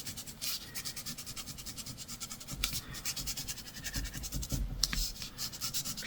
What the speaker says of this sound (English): We just cut through the foam.